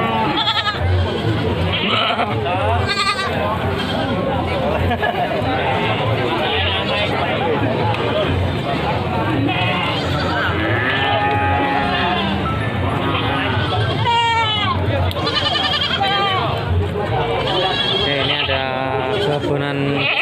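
Black-headed PE goats bleat repeatedly, near and far, at a livestock market in Panggul, Trenggalek, amid a busy crowd hubbub and people talking close by.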